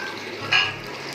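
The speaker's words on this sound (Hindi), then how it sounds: "ऑयल हमारा गर्म है, अब इसमें ये प्याज डाल देती हूँ, इसको हम फ्राई कर लेंगे।" Chopped onions hit hot oil in a pan for achari qeema, giving a brief swell of crackling sizzle over a steady low frying hiss.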